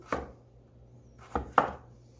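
Knife chops through turkey meat on a cutting board, cut into bite-sized pieces: three distinct thuds, one alone and then a quick pair, close up over a low steady background hum.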